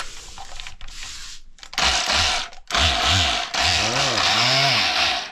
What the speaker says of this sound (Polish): O, leci normalnie. Ktoś raz przeszlifował tylko. Dobrą szlifierkę wyrzucili.